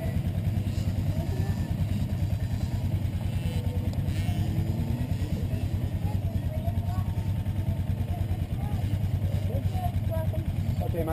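Engines of 50cc motorcycles droning steadily as they ride a parade lap on a race track, a low continuous hum at moderate distance with people talking over it throughout.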